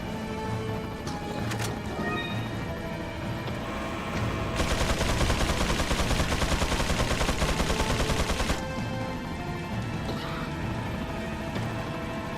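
A turret in a Resident Evil 4 randomizer mod fires a long, fast burst of rapid gunfire in the middle of quieter game sounds, loud and close, with scattered single shots before and after.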